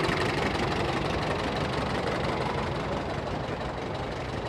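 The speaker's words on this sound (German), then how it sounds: "Hier kommt gerade ein Hanomag" A Hanomag R22 vintage tractor engine runs steadily at a tractor meet, a loud continuous knocking drone close by with no pauses.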